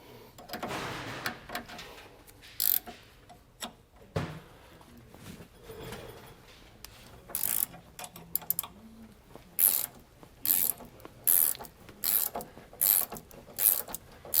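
A ratchet clicks in repeated bursts while loosening a Roadmaster front anti-sway bar link on a 2012 Tiffin Allegro motorhome, loud close rapid ratcheting strokes growing more regular toward the end, with earlier clanks and handling noise.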